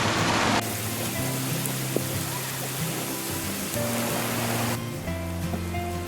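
The Amba river flows on a trek route near Umbarkhind, a steady broadband rush of moving water that stays even and close throughout with no voices.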